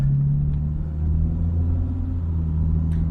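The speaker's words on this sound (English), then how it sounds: "I hope you guys can already hear that this sounds very different to a normal XJS" A modified Jaguar XJS V12 engine idles at around 1500 RPM, giving a loud, close, steady low rumble with a smooth even drone and no revving.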